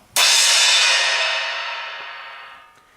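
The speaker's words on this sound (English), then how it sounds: "this is in fact a 16-inch trash cymbal" A 16-inch trash cymbal is struck once, giving a loud, bright crash that rings on and slowly decays over a few seconds with no other sounds.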